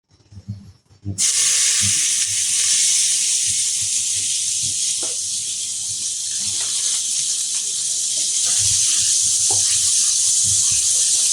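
Two large chopped onions hit hot oil for a veg empty salna, and after a brief quiet moment a loud, steady hiss bursts in and keeps going, close up, with faint stirring knocks beneath.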